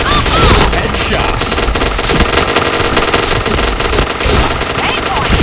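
Loud, sustained automatic gunfire from a first-person shooter video game, rapid bursts and overlapping shots filling the whole stretch, with a voice calling out faintly underneath.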